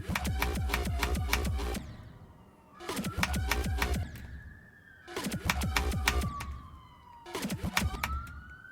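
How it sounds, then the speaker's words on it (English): A police-style emergency siren wails in repeated rising and falling bursts, separated by brief pauses, at a moderate distance with no talking over it. "That's a siren."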